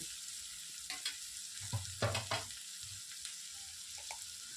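Chopped onions frying lightly in a pan: a soft, steady sizzle with a few brief scraping stirs, close and moderately quiet, no talking.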